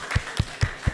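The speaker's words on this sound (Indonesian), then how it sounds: "Tepuk tangan kakak Nathan ini." A small group claps rhythmically, about four sharp, evenly spaced beats, for a guest at a school talk show at a vocational high school in Tondano.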